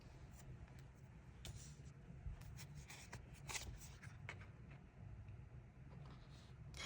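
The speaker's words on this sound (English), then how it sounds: "I only shuffle once for the first" Soft riffling and shuffling of tarot cards, quiet and close, with light papery taps and handling noises over a low background hum.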